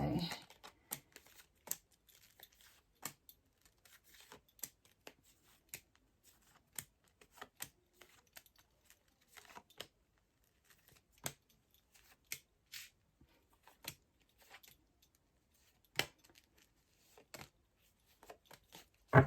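Tarot cards being shuffled and cut, heard as quiet, scattered crisp flicks and taps with long pauses between, some sharper snaps standing out in an otherwise hushed room.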